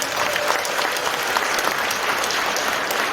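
Warm applause from a large indoor audience at a party members' gathering in Gumi, a dense, even crowd clapping sustained throughout.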